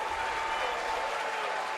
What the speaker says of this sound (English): It's excitement in the crowd today